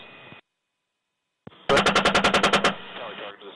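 AH-64 Apache attack helicopter gun firing a rapid burst of about ten loud, evenly spaced shots, following a short radio voice and a pause, with engine and rotor noise continuing underneath.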